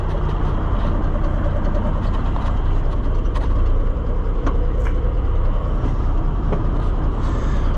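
Loud, continuous diesel rumble from a Ford L9000 semi's Big Cam Cummins 855 engine idling up close, steady throughout with a few faint clicks over the drone and no speech.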